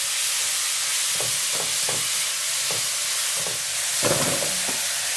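Tomatoes with turmeric and rock salt fry in a hot pan for lemon rasam, giving a steady, close sizzle with a few soft stirring knocks and bubbling bursts, and no voices.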